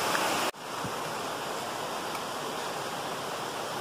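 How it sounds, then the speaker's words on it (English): A small waterfall cascade on a trail pours steadily, a dense broadband rush of flowing water, close and continuous, with one brief dropout near the start and no talking. "nice little cascade here"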